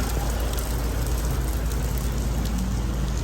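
A heavy rainstorm pounding down at an outdoor event in a village, a dense, steady hiss of rain with a low rumble underneath, continuous and loud throughout with no voices.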